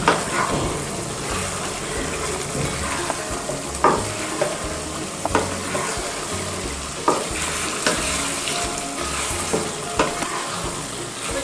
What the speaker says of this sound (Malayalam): നല്ലോണം ഒന്ന് മിക്സാക്കി കൊടുക്കാം.